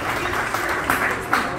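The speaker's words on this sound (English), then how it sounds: "And give a round of applause again, Mushtaq Lasharie, ladies and gentlemen" Audience applause at a 20th anniversary commemoration of the September 11 attacks held at Westminster, a brief steady patter of clapping with a few sharper claps standing out.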